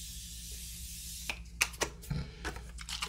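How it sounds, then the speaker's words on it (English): Morphe Continuous Mist setting spray misted onto a face in a long opening hiss followed by several short, sharp spritz bursts, close and fairly soft. "So I'm going to spray my face. And this is the Morphe Continuous Mist Spray."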